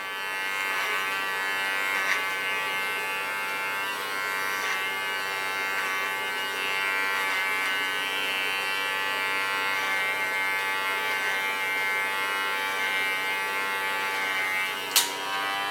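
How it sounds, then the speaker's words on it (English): An electric hair clipper buzzes steadily and close throughout while cutting a copper-red sun-kissed pixie haircut, its motor drone continuous with one brief sharper click near the end. "use my clipper as a comb"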